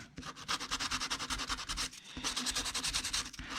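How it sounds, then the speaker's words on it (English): Hand sanding of wooden wall art with rhythmic back-and-forth strokes, a close, steady scratchy rubbing with a brief pause partway through. "Now I have to sand everything."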